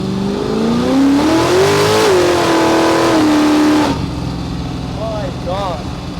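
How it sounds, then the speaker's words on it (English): A 1968 Beaumont pro street race car engine revs in a loud, close burst, pitch climbing and holding before cutting off, followed by a quieter idle with people talking over it. "The sound of that engine."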